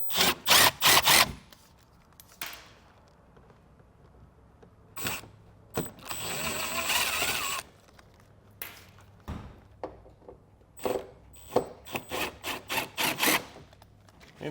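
Hand tools clicking and ratcheting while T15 screws are removed from the front wheel well of a 2024 Buick Envista, with sharp close ticks in irregular clusters and a longer rasping stretch between them.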